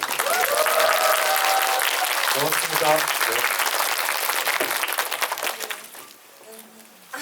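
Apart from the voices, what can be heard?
audience applause for the actors at a film screening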